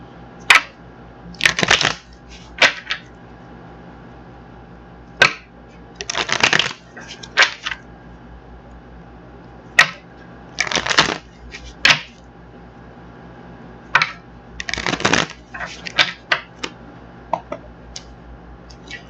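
A tarot deck is shuffled close up in a series of crisp, riffling bursts, separated by pauses and light clicks of the deck being handled.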